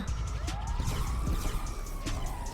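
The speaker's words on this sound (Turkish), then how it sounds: "şu an ambulans seslerinden kurtulmak istiyorum" An ambulance siren wailing in the game GTA 5, rising and falling sweeps sounding loud and close over a steady traffic rumble, with no talk.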